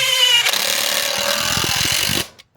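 A power tool whirs loudly for about two seconds as it drives a 3-inch screw into wood, sounding close and steady with a grinding rattle before stopping abruptly, with no voices.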